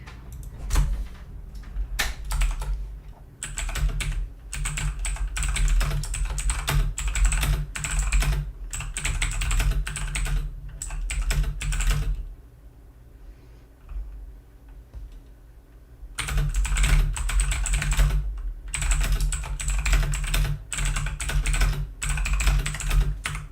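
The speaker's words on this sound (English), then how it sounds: "Oh, I just thought maybe that keyboard's very loud." Loud computer keyboard being typed on in rapid, steady bursts of clicking keystrokes, close up, with a pause of several seconds midway before the typing resumes; no talking.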